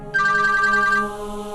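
A home telephone rings once with a bright, sustained electronic tone, close and loud, then fades into a quieter tail, with no talk.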